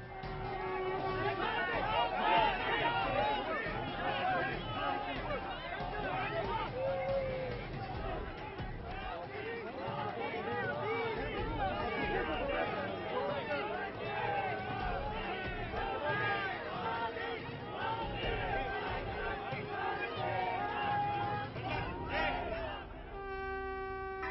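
An excited crowd greets Prime Minister Modi in New York with loud cheering, shouting and dense chatter that holds throughout, at close range.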